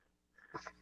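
A single short sneeze, faint and quick, lands alone at the end of a quiet moment.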